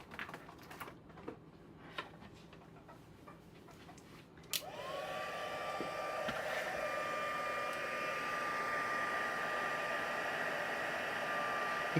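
Embossing heat tool switches on partway through, its steady blowing whir with a faint high whine running loud and continuous after a few quiet shuffles of card-making work.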